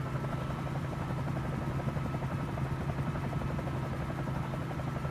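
A helicopter hovers and flies over New York in Microsoft Flight Simulator, its rotor thudding in a steady, even rhythm over a constant engine whine, loud and close with no talk.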